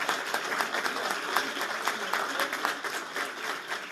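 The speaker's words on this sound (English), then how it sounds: "Does that not deserve a rousing applause for all of them?" Sustained applause from an audience at a Houston Veterans Day ceremony, a steady dense wash of clapping heard from a moderate distance throughout.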